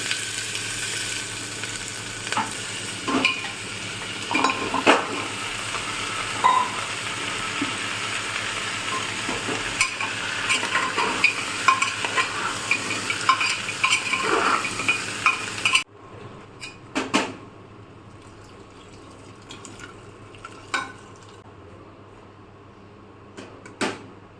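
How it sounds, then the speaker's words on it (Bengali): Tomato, peppercorns, whole garam masala and cumin seeds sizzle in hot oil for a spice tempering, a steady frying hiss with scattered utensil clinks that drops much quieter partway through. "টমেটো আর গোলমরিচ গোটা গরম মশলা আর জিরে ফোড়ন দেবো"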